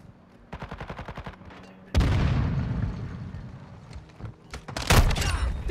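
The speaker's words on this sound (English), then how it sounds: "Taking effective fire!" Gunfire in Call of Duty: Modern Warfare II, a rapid rhythmic burst of automatic fire, then heavy booming shots and a later loud explosive blast, all close and intense with no talking.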